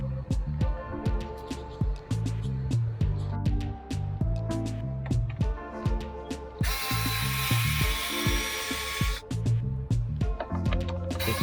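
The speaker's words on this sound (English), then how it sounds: "for now we're just taking off the screws, getting ready to pull that old C-channel made of plastic" Screws are backed out of the old plastic C-channel on a Bayliner 285 boat cabin door, giving a close, repetitive ratcheting click with a brief burst of harsher whirring midway, alone and without speech.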